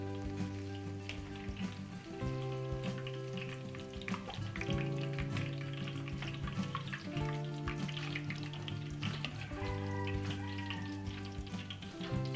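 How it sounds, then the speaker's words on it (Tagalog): Pork belly (liempo) deep fries in hot oil, giving a steady bubbling sizzle with scattered crackles and pops at moderate distance. No voices are heard over it. "Hanguin po natin itong ating liempo. Ganda ng pagkakaprito."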